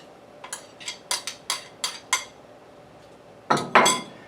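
Potatoes dropped into a pot amid dish clatter while preparing ham noodles and potatoes: a series of sharp clinks and knocks at an uneven pace, then two louder, fuller clattering impacts close by.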